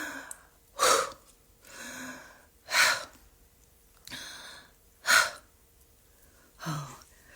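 Slow deep breathing exercise for calming anxiety: several long inhales and exhales in a steady rhythm, each breath swelling and fading, close and clear with no talking.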